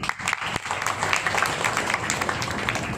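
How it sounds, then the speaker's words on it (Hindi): An audience at a religious darbar claps, starting with a few distinct claps that quickly swell into steady, dense applause continuing to the end. "तालियां बजा दो।"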